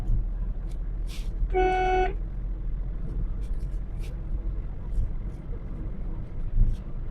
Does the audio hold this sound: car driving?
yes